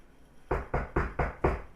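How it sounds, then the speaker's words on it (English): Five firm knocks on a door, evenly spaced in a quick steady rhythm, each a short hollow thud, close and clear against a quiet background with no one speaking. "Mortimer knocked, but no one answered."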